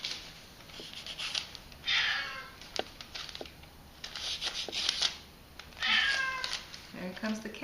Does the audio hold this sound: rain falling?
no